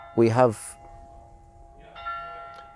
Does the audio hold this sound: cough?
no